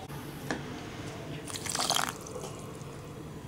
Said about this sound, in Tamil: இதுக்கு கொஞ்சம் வந்து ஒரு கால் கப் தண்ணி ஊற்றிக்கலாம்